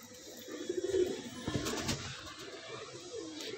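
A Teddy pigeon for sale in Lahore gives a short, soft, low coo near the start, faint against a quiet background hum.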